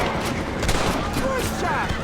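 Gunfire in the video game Red Dead Redemption, a rapid volley of sharp shots packed close together and loud, with voices talking over the shooting.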